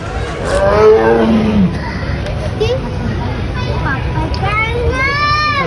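A tiger at a wildlife park gives deep, drawn-out roars, loudest at the start and again near the end, heard over a crowd of chattering visitors and someone talking close by.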